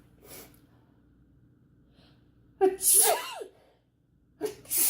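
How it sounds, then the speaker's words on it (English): A loud, close sneeze bursts out after a faint breath, followed by another sharp sneeze-like burst at the end. "I'm going to sneeze."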